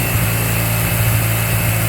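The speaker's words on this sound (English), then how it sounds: "that engine runs like it's a bought one, brand new" A stock 1977 Suzuki GS750 four-cylinder motorcycle engine runs at a steady idle nearby, giving a smooth, even, buzzing drone with no talk over it.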